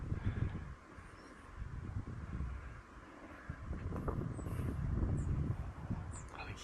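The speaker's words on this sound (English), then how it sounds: "I think he can't hear us because of the wind." Wind blowing on the West Coast, a steady low rumble with buffeting gusts across the microphone that rise and fall throughout, loud and close, with no clear talk over it.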